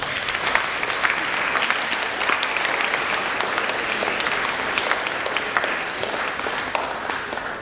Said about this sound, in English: let's give yourselves a hand clap